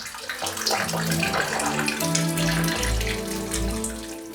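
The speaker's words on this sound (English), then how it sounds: "We turned on the waterfall" Water pours steadily into a large mega terrarium with aquatic fauna as its waterfall is switched on, a continuous close splashing rush with no voices.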